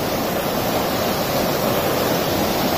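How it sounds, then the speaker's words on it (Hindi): A mountain river in Menchukha, Arunachal Pradesh, rushes past in a constant, dense wash of flowing water, near and fairly loud, with no voices over it. "नदी है"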